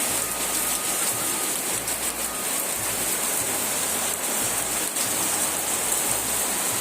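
A heavy downpour falls outside on a dark afternoon, a constant loud hiss of rain on surfaces with a low, pulsing rumble underneath, steady from start to finish.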